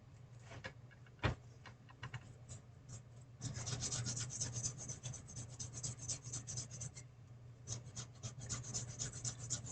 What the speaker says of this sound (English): But now sanding down the seam lines off these main tires.